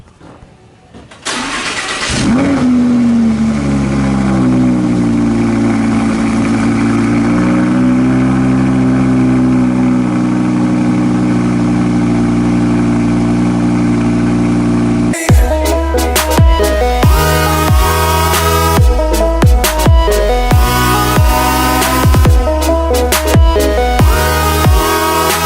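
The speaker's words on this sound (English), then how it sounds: "this is gonna be a cold start on the R8" An Audi R8 with an UltimatePD X-Pipe exhaust cold starts: a brief starter crank, then the engine catches with a loud flare and settles into a steady, deep, high-idle drone, before the sound abruptly cuts to a different, busier loud passage.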